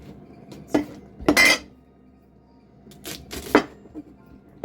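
A big kitchen knife chops into a squash: a few sharp knocks and clattery strikes spaced out over a few seconds, close by in a quiet room.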